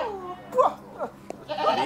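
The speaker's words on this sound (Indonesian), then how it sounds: "Ini lebaran nih, ini kambing ini." A goat bleats in short wavering cries, several calls close and loud in quick succession, with faint talk in the background.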